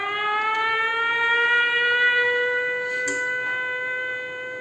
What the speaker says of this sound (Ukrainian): Увага! Повітряна тривога.